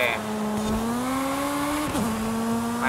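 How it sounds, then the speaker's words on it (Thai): A high-revving motorcycle-type engine on a three-wheeler in Forza Horizon 5 holds a loud, steady whine, with a brief dip near the end and a faint squeal. "แล้วเสียงเครื่องมอเตอร์ไซค์คือแบบเราใจจริงๆรอบสูงมาก เป็นหมื่นรอบเลยนะ"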